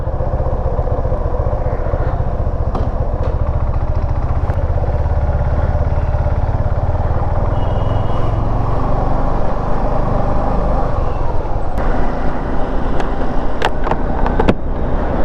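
A motorcycle engine drones steadily at the start of a morning coastal ride through Konkan, loud and close throughout, with occasional light clatter and rattles over the continuous rumble.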